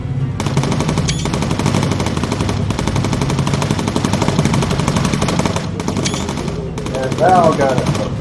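Rapid machine-gun bursts from a bomber's waist gunner position in the video game Bomber Crew, firing in dense sustained rattling volleys throughout, with a voice talking over the gunfire.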